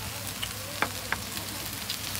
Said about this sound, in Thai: เค็มๆเผ็ดๆรสเผ็ดอ่ะนำมาเลยกระทะร้อนมาก เนื้อสุกแล้วนะครับ